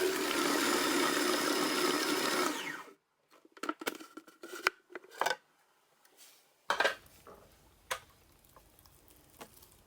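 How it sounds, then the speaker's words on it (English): A blender grinds pork with egg white in a loud, dense whir for about three seconds, then cuts off, followed by scattered light clinks and taps. "Halfway through grinding, add in the egg white. Continue to blend the pork."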